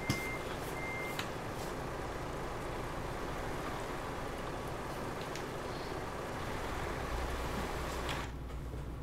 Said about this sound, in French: C'est ton Mercedes, il fait autant de bruit en reculant ou quoi?